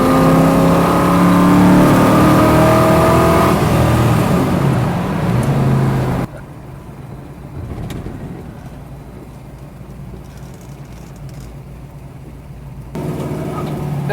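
A 1965 Ford Mustang A-code fastback with a four-speed runs at speed, its engine and road noise loud and steady for about six seconds before cutting to a much quieter, muffled hum.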